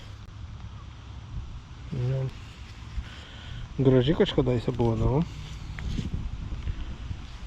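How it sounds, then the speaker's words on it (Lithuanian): Wind blowing outdoors under trees, a continuous rushing noise that swells and eases, with a person speaking close by over it. "O, vėjas pučia."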